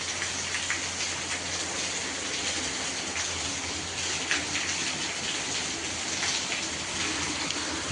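Heavy rain pours steadily in a dense, continuous hiss, with scattered louder drops spattering on a surface; no voices are heard.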